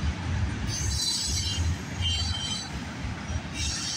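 A freight train rolls past steadily at night with a low rumble, its wheels squealing at intervals and a faint clickety-clack underneath. The sound is loud and continuous.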